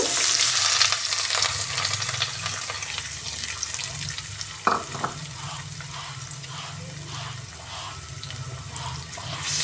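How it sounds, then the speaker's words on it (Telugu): Sliced red onions fry in a pan for an Andhra-style onion egg curry, giving a steady sizzle with occasional stirring clatter and one sharp knock partway through. "ఈ ఎర్రగడ్డ రెండు మూడు నిమిషాలు బాగా ఫ్రై చేసుకున్నాము"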